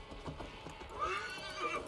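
A horse in Assassin's Creed Valhalla lets out a rising whinny after a few soft hoof clops, fairly quiet with game ambience behind it.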